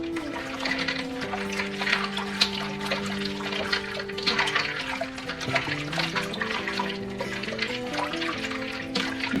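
Lettuce, marigolds and squash blossoms swished around in a big pan of water, giving continuous close splashing and sloshing with a steady watery rush throughout.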